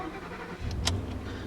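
A 2013 Ford F-150 XLT pickup truck's engine cranks and catches with a brief whine, then settles into a low, steady idle rumble heard close by.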